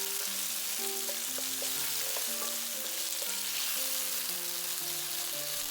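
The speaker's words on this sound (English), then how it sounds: "I'll stir back and forth so they mix well with the spices." Shrimp frying with garlic and spices while being stirred back and forth in a pan, a continuous dense sizzle with steady background music tones running throughout.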